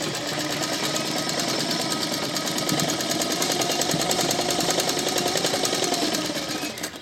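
A sewing machine runs steadily for several seconds, stitching a straight seam joining a long garment piece to the chest panel, with a fast, even mechanical chatter throughout and no voices.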